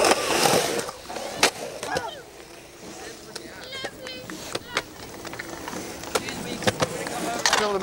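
Skateboard wheels rolling and clacking on a backyard mini ramp, with sharp truck and tail impacts spaced through the session and lighter rolling rumble between, while people talk nearby.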